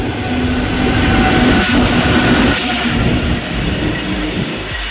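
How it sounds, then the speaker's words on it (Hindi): A train rushes past very close beside a trackside spot, a loud roaring rumble of wheels and carriages with rhythmic clattering, heard alone at full volume. "तो भाई लोग ट्रेन आने वाला है इधर से पीछे से"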